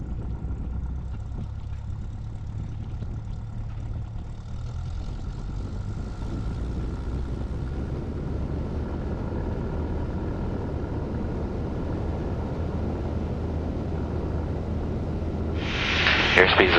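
A small training airplane roars through its takeoff roll, a steady loud propeller and engine drone with a constant hum, while a voice talks over it and a brief bright burst comes near the end.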